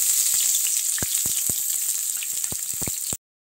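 Onions with cumin fry in a pan with a steady bright sizzle, dotted by sharp pops and crackles, before cutting off abruptly.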